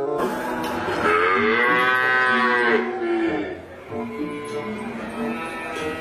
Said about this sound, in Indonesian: lihat teman-teman, kita menemukan kerbau